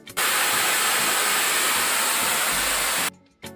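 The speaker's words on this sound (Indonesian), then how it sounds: "fungsi lain dari keran bagian atas ini adalah tempat melepaskan tekanan udara dari ketel." Pressure bursts loudly from the top valve of a clove oil distillation kettle, a sustained broadband hiss like escaping steam that holds steady for about three seconds and then cuts off abruptly.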